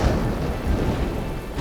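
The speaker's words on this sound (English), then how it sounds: "Rain falls across Pangaea," Heavy rain pours in a steady broadband wash with a low rumble of thunder beneath, a dense, loud storm over ancient Pangaea with no voices.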